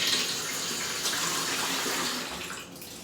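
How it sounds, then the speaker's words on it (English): Tap water runs steadily into a 9x13 baking pan, a close, constant hissing splash that eases slightly near the end. "So you're just gonna put some water in it"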